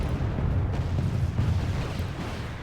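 Missiles fire and explode in the Wargame Red Dragon video game, giving a continuous heavy rumbling roar with a few faint pops, steady and moderately loud.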